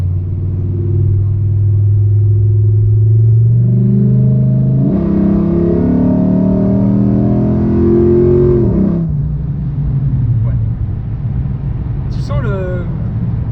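A 2006 Dodge Ram SRT10 pickup with an 8.4-litre V10 kicking down and accelerating, a deep engine rumble climbing in pitch, then dropping back, while people talk inside the cab.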